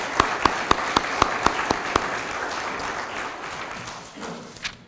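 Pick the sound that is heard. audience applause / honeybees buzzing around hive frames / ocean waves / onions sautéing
audience applause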